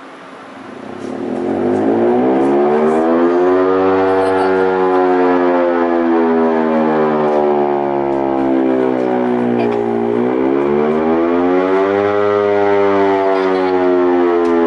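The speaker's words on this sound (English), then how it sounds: "Tornado siren." A loud, steady civil defense siren wails continuously, its pitch sliding slowly down and back up in long sweeps, with faint traffic underneath.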